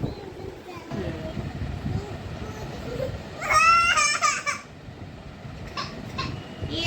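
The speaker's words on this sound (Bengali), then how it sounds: "না কাঁদছিস কেন" A baby cries out in a brief wailing burst midway through, close and fairly loud over a steady background rumble.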